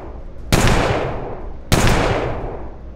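Two sharp gunshots ring out about a second apart in the video game Colony Ship, each a loud, close crack followed by a long, echoing decay, with no talking.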